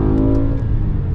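BMW E60 M5 V10 engine fitted with a carbon plenum, revving hard under throttle near six thousand rpm, a loud, close, sustained growling bark from inside the car.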